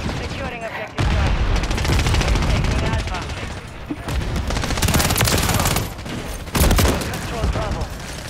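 Gunfire in a Call of Duty multiplayer match on the Shipment map, dense overlapping bursts and loud booms filling the whole stretch, with players talking over the shooting.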